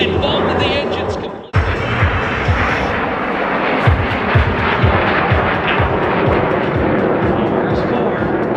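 Loud, roaring engines of a Yak-110 aircraft flying an airshow display at the Gold Coast, a sustained broadband rumble that cuts briefly near the start and then holds steady as it passes overhead.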